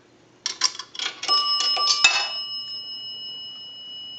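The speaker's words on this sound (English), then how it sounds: "The dime rang the bell twice." Automatic Electric three-slot payphone bell struck by a dropped dime, two quick bright dings followed by a sustained ringing decay, close and clear with no talk.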